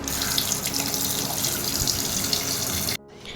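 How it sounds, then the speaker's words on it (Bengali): Tap water runs steadily into a kitchen sink as meat is washed under it, a close, continuous splashing rush that cuts off abruptly near the end. "তো দেখো তোরা মাংসটা ধুয়ে নিই"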